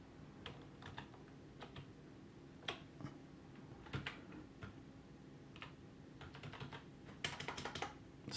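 Keys clack on a computer keyboard in irregular bursts of soft taps, faint and close, with a quick flurry of keystrokes toward the end and no speech.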